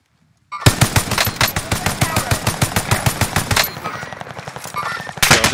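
Rapid bursts of BAR assault rifle fire in Call of Duty Vanguard, a loud, steady automatic stream of close shots that pauses briefly and then resumes near the end.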